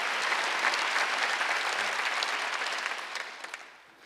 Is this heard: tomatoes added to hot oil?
no